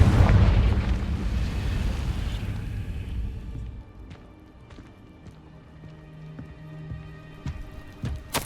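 A Confringo fire spell detonates in Hogwarts Legacy, a loud deep blast at the start that rumbles and fades over a few seconds, followed by quieter ambient game sounds and scattered small clicks.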